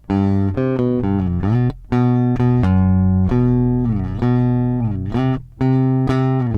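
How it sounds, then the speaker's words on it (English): A sustained electric bass guitar line with a low shelf EQ boost giving a full, round low end, notes held and shifting in a steady melodic phrase, played alone and fairly loud. "Bringing up that tonal aspect, the sustain of the low end on this bass guitar."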